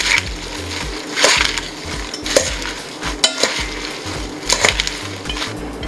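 Salad being tossed with garlic and canola oil, giving irregular rustling, stirring and scraping bursts of leaves against a bowl, fairly close and loud, with no talking.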